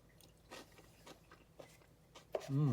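Crunchy bites of tuna salad taken with a small fork: a few soft, close crunching and chewing sounds spread out over a quiet background, ending as a voice starts to speak.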